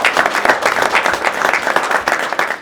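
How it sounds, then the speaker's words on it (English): An audience at a press conference breaks into loud, close applause, a dense burst of many hands clapping that lasts the whole few seconds. "Let's clap for that"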